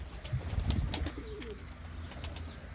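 A pigeon coos softly a few times outdoors, faint against a low background rumble.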